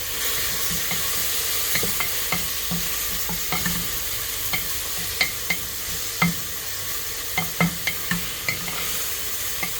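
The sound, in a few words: stirring chopped tomatoes frying in pan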